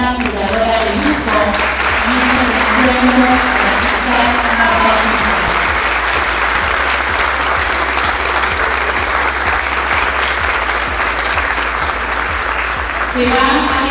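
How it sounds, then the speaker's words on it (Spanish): Loud, sustained audience applause in a theater for a curator at a mosaic artists' gathering, dense clapping throughout with a musical tone audible at the start. "darle un aplauso muy grande a una curadora de lujo"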